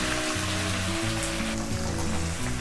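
Chopped onions frying in oil for a masala paniyaram filling, a close, continuous hiss and crackle like rain on a surface, steady for the whole stretch with a low hum underneath.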